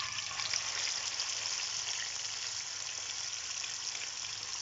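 Chicken wings fry in hot oil, giving a steady, bright, hissing sizzle at moderate volume that holds evenly throughout with no voices.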